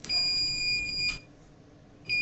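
A saline monitoring device with a 500 ml saline bag emits a single sustained high beep lasting about a second, then silence, then another beep begins; clean and close.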